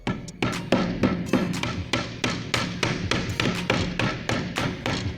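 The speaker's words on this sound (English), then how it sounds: "Just want to hammer that lip closed." A hammer strikes again and again along the edge of a sheet metal feeder, closing the folded lip without crushing the bead. The blows are close, loud and steady, landing roughly twice a second with no talking.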